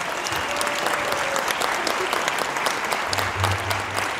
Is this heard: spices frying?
no